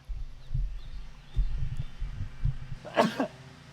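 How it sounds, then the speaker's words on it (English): One close, abrupt sneeze bursts out outdoors near the end, after a steady low rumble of wind and movement. "It's got me sneezing ever since we've been back."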